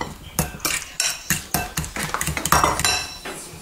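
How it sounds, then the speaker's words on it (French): Egg yolk filling for oeufs mimosa mixed and crushed in a bowl, a close series of sharp utensil clinks and scrapes in an uneven rhythm, alone without talk. "On mélange tout ça, on écrase tout ça correctement pour arriver à un mélange assez fin"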